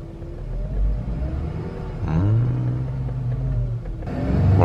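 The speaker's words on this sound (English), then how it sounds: "She's about to drive a Jeep, which is a stick." A stick-shift Jeep is driven with a steady low engine rumble and road noise, and the revs rise and shift in pitch partway through. No one speaks.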